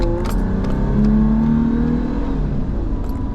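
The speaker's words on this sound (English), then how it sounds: "We're gonna do wide open throttle" Toyota Tacoma with a 3.4L engine and sluggish performance, revving at wide open throttle, a loud close engine note climbing steadily in pitch as the truck accelerates, with no talking.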